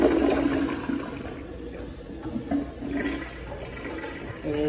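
A supermarket restroom toilet with no valve in the tank, only a handle, flushes loudly with a strong initial rush of water that settles into a steady swirling drain for several seconds.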